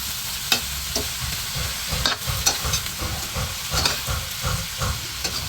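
Garlic fried rice (sinangag) being stir-fried in a pan, with steady sizzling under repeated scraping strokes of a spatula at an uneven rhythm, close and fairly loud, with no talking.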